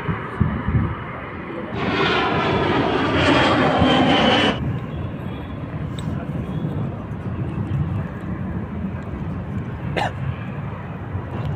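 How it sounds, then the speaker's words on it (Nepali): A Singapore Airlines airliner sits on the runway before takeoff, and its jet engines swell into a loud, steady roar for a few seconds before easing back into a broad rumble. Wind noise runs under it and no one speaks. "यो सिङ्गापुर एयरलाइन्स हो, हेर्न सक्नुहुन्छ। र अहिले यो रनवेमा छ र अब एकछिनमा उठ्छ।"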